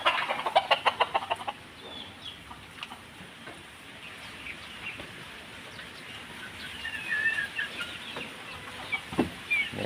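A hen clucks in short, repeated bursts at the start, followed by quieter farmyard bird calls and chirps against a low outdoor background.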